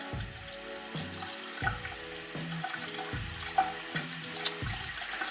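Water runs steadily from a tap while a makeup brush is rinsed, with a rhythmic pattern of splashes and flow changes at a moderate, close level.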